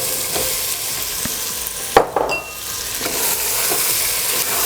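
Capsicum fries in a pan with a constant close sizzle, broken by a few sharp scraping clatters of a spoon stirring it; there is no talk.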